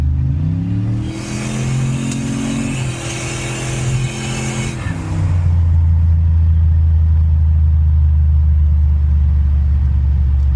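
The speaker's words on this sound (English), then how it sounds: "so we'll do a second gear rip here." A turbocharged OBS Ford truck pulls hard in second gear, its engine note climbing steadily in a loud, close rising drone before settling into a deep, heavy rumble.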